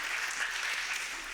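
Audience applause at a Korean presentation of the Honda GB350C classic motorcycle, a steady dense wash of clapping that fills the whole short moment without voices.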